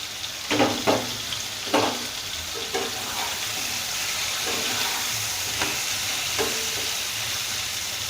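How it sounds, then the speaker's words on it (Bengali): Ash gourd and pigeon pea dal cooking in a pan, a steady hiss of frying and steam with several soft stirring scrapes near the start that fade into a continuous sizzle. "ঢাকা দিয়ে আমি কিছুক্ষণ নেড়ে চেড়ে রান্না করে নিচ্ছি।"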